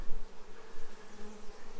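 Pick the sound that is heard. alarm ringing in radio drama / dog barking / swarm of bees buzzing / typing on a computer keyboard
swarm of bees buzzing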